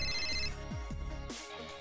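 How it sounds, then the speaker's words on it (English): A telephone rings with repeated electronic chirping tones, a short melodic ringtone played close and clear. "he just got another phone call"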